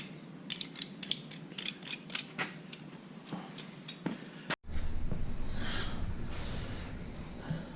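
Metal collar being tightened around a flag on a Dune Star whip bracket mount, giving a run of sharp ratcheting clicks and ticks, then a brief cut to a steady broadband rush.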